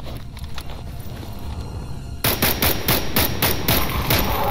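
Rapid bursts of AK assault rifle gunfire in the S.T.A.L.K.E.R. Anomaly video game, close and loud, a steady stream of sharp repeated shots following a quieter stretch of ambient game noise.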